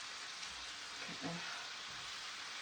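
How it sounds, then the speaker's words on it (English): Cajun shrimp, sausage and vegetables stirred in a greasy skillet give off a steady, soft sizzle with a few faint scraping stirs near the middle, and no one speaks. "So we're stirring that up. Let's stir this one up."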